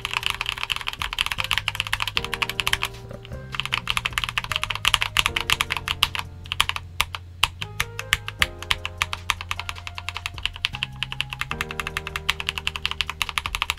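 Rapid, crisp keystrokes on a Tecware Phantom mechanical keyboard fitted with lubed red switches, clacking in quick irregular bursts with a few brief pauses, close and fairly loud, with no voices.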